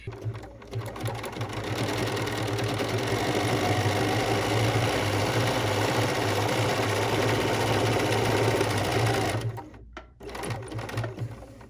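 A sewing machine runs a number 4 serpentine stitch, lengthened to about 1.15 millimeters, in a long, steady, close mechanical hum lasting around nine seconds before it stops, followed by brief softer handling.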